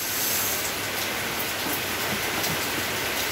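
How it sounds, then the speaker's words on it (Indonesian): Steady rain falling, a dense continuous hiss of drops on surfaces, loud and even throughout with no voices. "Hujan-hujan."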